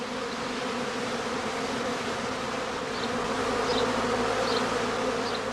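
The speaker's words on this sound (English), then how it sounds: "the humming of the emerging bees is a good indicator of the progress of swarming" Dense, continuous humming of a large mass of honey bees emerging to swarm from a heather skep fills the air, steady and close, with individual buzzing insects passing now and then.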